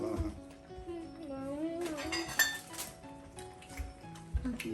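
A large drinking glass clinks against dishes and cutlery at a family meal, light chinks and taps scattered under a child's and an adult's talk.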